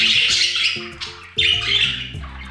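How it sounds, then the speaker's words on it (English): Close, loud budgie chatter: several rapid squawks and warbling chirps in quick succession, with a brief pause midway before another burst. "In domestic conditions, budgies are calm, quiet, and resilient, but also chattering birds."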